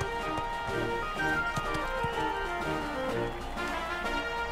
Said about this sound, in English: That is a buff horse.